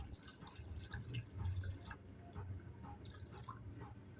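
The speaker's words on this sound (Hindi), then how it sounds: "2 गिलास में हम जो है पानी डाल के इसको गलाएंगे" About two glasses of water poured into a pot of beef masala karahi while it cooks, a faint, steady trickle with light splashes and drips close by, without talking.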